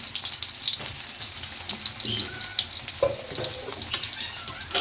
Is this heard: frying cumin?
yes